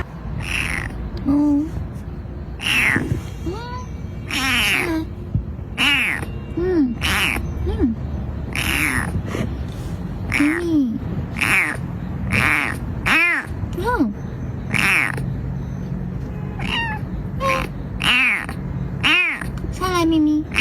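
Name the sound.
cat meowing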